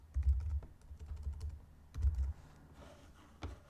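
Keyboard typing during website setup, a short burst of close key taps around the start, another brief cluster near the middle and a few final taps; no talking.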